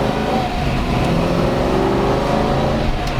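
A 1966 Ford Mustang Fastback K-code with a four-speed top loader pulling away from a stop, its engine note a loud, dense, steady roar under load heard from inside the car, without talk.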